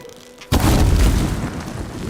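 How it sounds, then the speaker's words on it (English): A single loud video game firework boom from Horizon Zero Dawn bursts suddenly after a quiet moment, followed by a crackling, rumbling decay. "So I mean, I able to shoot two fireworks."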